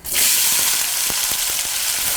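Chopped onions drop into hot oil after mustard seeds have popped, for a duck dish, giving a loud, close, continuous sizzle that flares at the start and holds steady, with a few soft stirring knocks.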